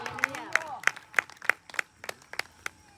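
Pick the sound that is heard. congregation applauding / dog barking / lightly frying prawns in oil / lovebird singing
congregation applauding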